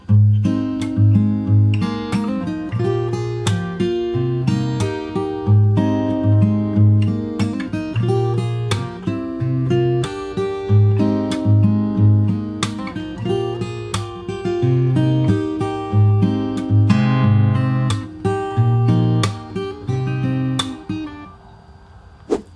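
Fingerstyle acoustic guitar plays a full section, steady chords and bass lines punctuated by sharp percussive body slaps, loud and close with no talking, fading out at the end.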